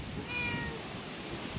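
A cat gives a faint, brief meow outdoors, heard quietly against low background noise.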